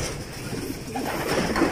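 Racing pigeons cooing close by in soft, low throaty coos over a steady background murmur.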